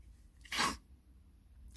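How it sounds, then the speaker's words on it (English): One sharp, close sneeze bursts out briefly against a quiet room, with faint background hiss before and after. "I'm going to sneeze."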